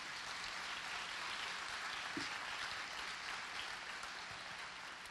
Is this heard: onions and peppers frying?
no